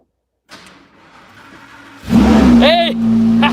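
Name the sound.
Lamborghini engine starting and revving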